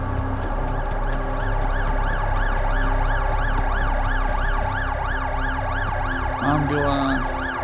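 An ambulance siren wails in the video game The Alters, a loud, steady rising-and-falling cycle that continues throughout, close and prominent over a low rumble.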